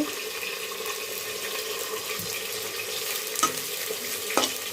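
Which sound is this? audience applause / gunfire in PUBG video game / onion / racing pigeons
onion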